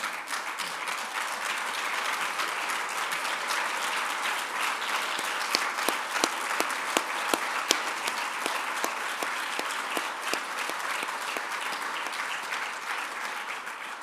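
An audience at a party leader's speech gives sustained, dense applause that stays steady and loud throughout, with some sharper individual claps standing out midway.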